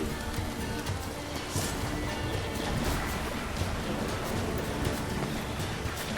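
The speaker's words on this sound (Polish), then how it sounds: "Burza psia krew." Thunderstorm in The Witcher 3: steady heavy rain hisses throughout, broken by a few low rumbles of thunder, dense and continuous with no talking.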